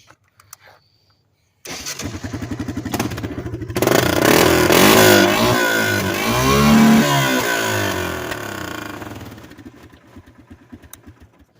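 A Honda Fourtrax ATV with a modified exhaust cranks over and fires up, settling into a loud, raspy idle close by, swelling with a few blips of throttle before dropping back and cutting off.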